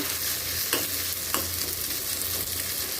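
Potatoes and onions frying together in oil make a steady, fairly loud hiss with a couple of brief scrapes from stirring, and no voices are heard.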